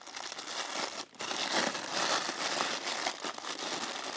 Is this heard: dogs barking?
no